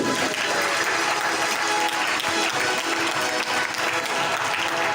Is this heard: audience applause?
yes